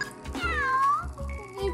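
A kitten gives one clear, drawn-out meow with a falling pitch, close and fairly loud, followed by a shorter softer mew, over faint low background thumps.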